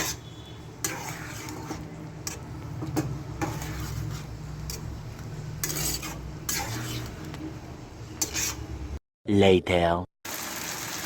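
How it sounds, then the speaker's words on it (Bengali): Marinated chicken pieces for chicken 65, dusted with chilli powder, are stirred in a pan with a spoon, giving repeated scraping and clinking strokes over a soft sizzle, with a short burst of louder noise near the end. "চিকেনগুলো দিয়ে এবার একদম ভাজা ভাজা করে নেব"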